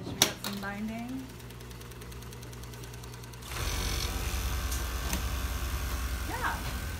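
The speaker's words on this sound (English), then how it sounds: "Got another cover stitch here, so lots of cover stitching going on." Industrial cover stitch sewing machine running on a clothing factory floor: a steady mechanical whir and hum with a rhythmic needle pattern, joined midway by a louder, busier machine drone, with faint background noise.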